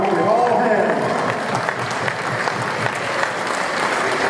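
A crowd at a Houston Africa Day 2022 gathering applauds Mayor Sylvester Turner, steady and dense clapping from start to finish, fairly loud, with some voices mixed in.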